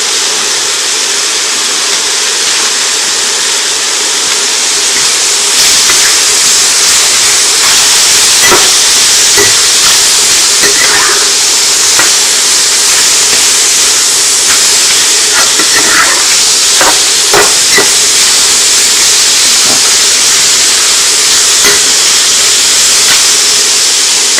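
Broccoli and celery sizzle in a hot pan for soy curls lo mein, a loud, steady hiss running throughout with occasional crackles and pops, no talking.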